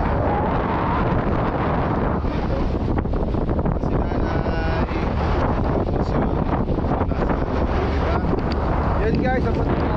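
A large motorboat carries passengers across open water toward Jomalig Island in Quezon, its engine a constant roar under heavy wind buffeting and splashing, with voices faintly mixed in.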